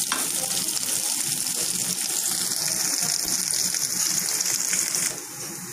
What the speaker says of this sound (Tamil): இது நல்லா வதங்கிக்கிட்டே இருக்கு.